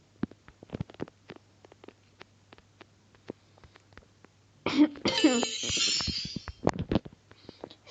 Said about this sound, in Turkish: sesim kısıldı ondan öksürüyorum.